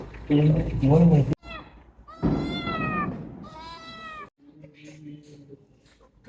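A cat being lifted out of a carrier bag at a veterinary clinic meows several times, close and fairly loud, with drawn-out cries between bursts of people talking nearby.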